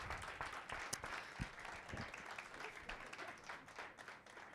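A conference audience at a media innovation summit applauds a panel with a dense, steady wash of many hands clapping. The sound is fairly faint and distant, a few louder claps poke out, and no one speaks over it.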